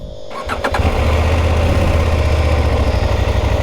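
A CFMOTO 800MT adventure motorcycle's engine cranks with a few quick starter clicks, catches and settles into a steady, loud, close idle rumble with no talk.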